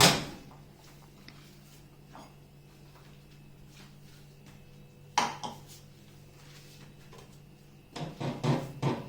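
Homemade pizza vegetables taken out of a microwave: a sharp door clunk at the start, a quiet stretch with a soft hum, another clunk, then a cluster of clattering handling noises near the end.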